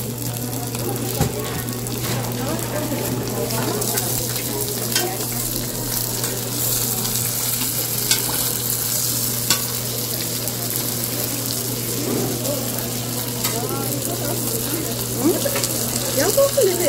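Triangle dumplings sizzling on a griddle at a stall in Seomun Market, Daegu, a loud continuous hiss of frying with a steady low hum, clatter and market noise, and occasional voices nearby.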